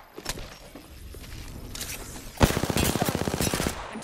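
Rapid automatic gunfire in the battle royale shooter Apex Legends, scattered shots at first, then a loud sustained burst of fast repeating rounds in the second half, dense and close.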